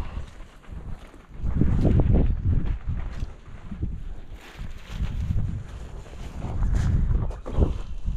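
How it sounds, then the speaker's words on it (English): Wind blowing outdoors on Earth Day during trash cleanup, loud buffeting gusts rumbling against the microphone, rising and falling in strength across the whole stretch. "Wind's picking up."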